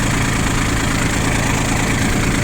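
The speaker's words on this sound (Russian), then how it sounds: "Трактор сейчас сделаем холостой, чуть пониже." A Japanese 4WD mini tractor with a rotary tiller idles at steady low revs, its engine a constant close rumble with an even vibrating texture and no talk over it.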